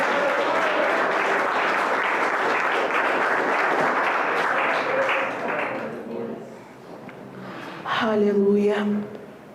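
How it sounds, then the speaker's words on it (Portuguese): Congregation clapping during a family church service, a dense burst of applause that fades after about six seconds, followed by a voice speaking near the end. "Aplauda com mais força,"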